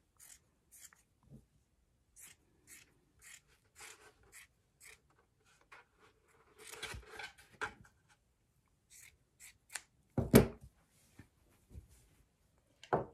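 Scissors snip through stretchy sweater fabric in short, separate cuts with pauses between, crisp and close, plus a few louder rustles and handling noises.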